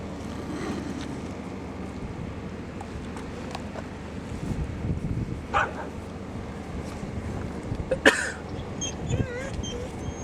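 Dogs bark in short, separated bursts at baboons outdoors, with louder yelps standing out over a steady rustling background.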